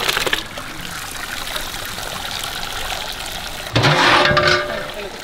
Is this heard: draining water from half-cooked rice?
yes